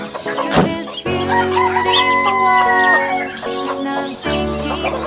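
Pet chickens kept alongside ducks on a small farm, with a rooster letting out a loud, close crow, a brief pause, then a long sustained second crow over faint background clucking.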